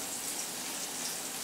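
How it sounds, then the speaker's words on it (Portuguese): Jiló (scarlet eggplant) frying in a pan, a steady dense sizzle with fine crackling throughout, close and fairly quiet, with no voices. "tô fritando para ele o gilozinho, que ele gosta"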